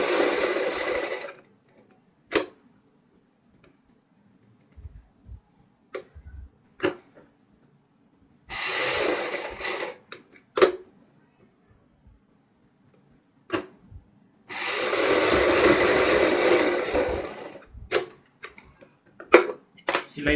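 Sewing machine stitching piping onto a kurti neckline, several loud close bursts of running stitches separated by quiet pauses and sharp handling clicks, no voices.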